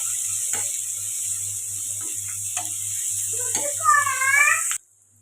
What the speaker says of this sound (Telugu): ఉల్లిపాయలు ఇలా ఫ్రై అవుతున్నాయి కదండి